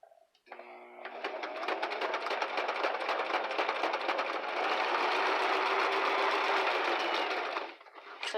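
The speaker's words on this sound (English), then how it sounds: "right now I'm working on a Brother sewing machine, kind of a newer model" A newer-model Brother sewing machine runs continuously at a steady, fast mechanical clatter, loud and close, starting after a brief pause and stopping near the end, with no talking.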